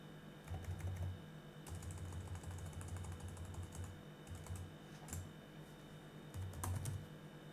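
Keystrokes on a computer keyboard while a MySQL root password is entered during a WordPress install on Linux, heard as soft, quick clusters of taps in short bursts with brief pauses, over a low steady hum.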